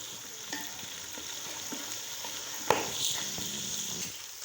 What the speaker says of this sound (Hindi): प्याज भी जो है वो इसमें फ्राई हो रहा है